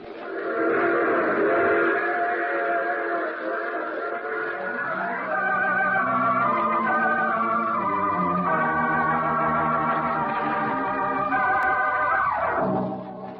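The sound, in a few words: train running, radio drama sound effect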